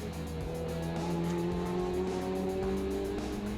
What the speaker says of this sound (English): Let's go for a hot lap in the Ferrari Central Florida 199 488 Challenge Evo car.